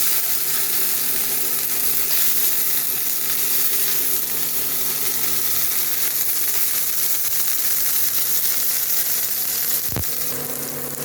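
Bitter gourd (karela) fries in a pan with a loud, dense, continuous sizzling hiss close up, steady throughout with a brief knock near the end.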